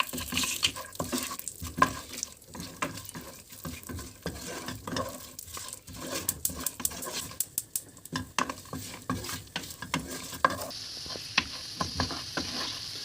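Spices and nuts roasting in a pan for Ottoman-style Acem pilaf, a soft continuous sizzle with frequent stirring scrapes and light clinks of a utensil against the pan, close and quiet.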